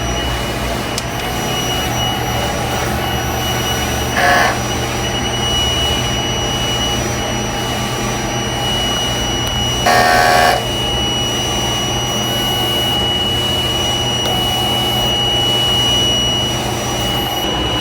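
A large format sublimation printer runs a head clean, giving off a loud steady mechanical whir with a constant hum, broken twice by brief higher-pitched electronic tones.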